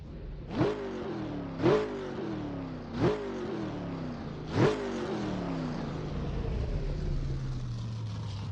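A Bugatti engine in an Assetto Corsa mod revs hard four times in a row, each surge climbing and then dropping away, before it settles into a steady, rising drone while driving.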